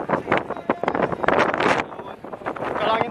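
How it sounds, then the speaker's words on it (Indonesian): Strong, constant wind buffets the microphone on a bridge by the beach at Ancol, roaring in uneven gusts throughout, with a voice talking over it. "Nah, anginnya terus"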